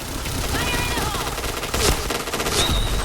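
Gunfire in the first-person shooter video game Point Blank crackles in rapid bursts amid game effects, loud and close, with a player's voice briefly audible.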